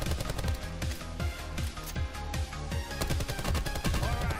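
Rapid gunfire in the video game Call of Duty Black Ops 4 Blackout, a loud run of sharp repeated shots in quick bursts with brief gaps, close and continuous throughout.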